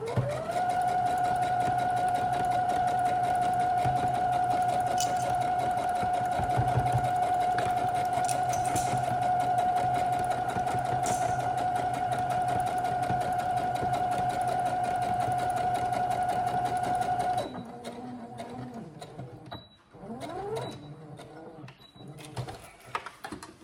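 A sewing machine stitches forward and back through bag fabric in a steady, close whirring run that lasts most of the clip, then stops, leaving a few quieter handling noises.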